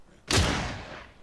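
A single gunshot in the survival game Miscreated on Orca Island, a sharp loud crack with a broad rumbling tail that decays over about a second, heard alone.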